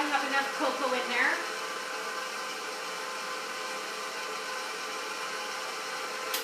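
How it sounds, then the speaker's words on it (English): A KitchenAid stand mixer churns chocolate cake batter with cocoa, giving a steady, even motor whir that runs throughout, with a voice briefly audible near the start. "I just like this KitchenAid. So I'm just going to mix it up to see if I have enough cocoa in there."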